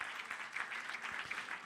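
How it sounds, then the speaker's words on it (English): A brief round of audience applause at a women in sport summit, a short burst of uneven claps that swells and fades slightly, heard alone without speech. "Let's give him a round of applause."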